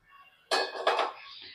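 A large metal cooking pot being handled, two quick clanks close by, followed by a fading ring.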